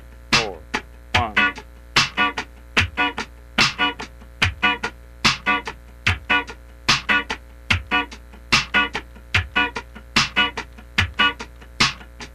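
Funk rhythm guitar played with muted upstrokes on the second sixteenth, crisp scratchy chops repeating in a tight steady pattern about twice a second over a low hum, close and clear with no talk.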